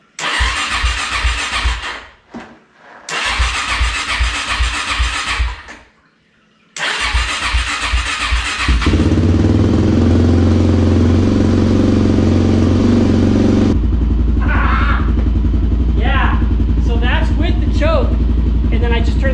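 An off-road vehicle engine on a jump box cranks in three separate bursts with short pauses, then catches and settles into a steady, loud idle that continues to the end.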